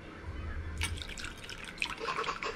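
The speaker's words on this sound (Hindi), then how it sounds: "अभी इसमें से थोड़ा सा पानी में आयत के लिए डाल लेता हूँ।" Hot water trickles and splashes into a container in short bursts over a low background hum, close and fairly quiet.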